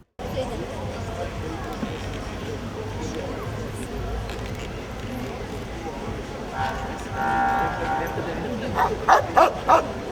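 A service dog barks a few times near the end, heard beneath continuous talking and outdoor background noise.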